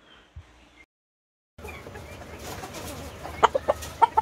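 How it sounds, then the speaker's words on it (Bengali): Kosamo breed chickens, in assorted colours, give a few short, close clucks over a low background hum after a brief early lull of near silence. "এগুলো কোসামো জাতের মুরগি"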